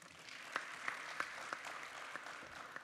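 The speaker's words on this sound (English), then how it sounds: "Please welcome Mr. Brillantes with a warm round of applause." A conference audience at a regional public administration symposium claps to welcome a speaker, a faint, brief patter of scattered claps with a few sharper individual hits.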